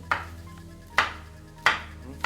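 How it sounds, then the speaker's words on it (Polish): A knife cuts chili pepper into rings on a board, giving three or four crisp, evenly spaced chops up close with faint kitchen hum between them. "Papryczkę chili kroję w plasterki."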